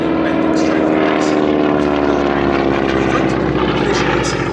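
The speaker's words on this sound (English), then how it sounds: "And this very airplane, one of two based in the UK with the same owner, Nigel Picard" A Spartan 7W Executive propeller airplane, a 1938 Bendix Trophy race competitor, drones loudly overhead at an airshow, its engine roar steady and close with a rich throbbing tone throughout.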